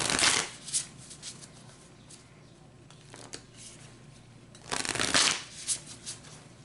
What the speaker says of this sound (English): So let's go ahead and give this a good shuffle.